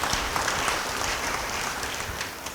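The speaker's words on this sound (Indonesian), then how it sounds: "Yang percaya beri tepuk tangan bagi dia." Church congregation applause during a sermon, a sustained wash of clapping across the hall, fairly even and full throughout.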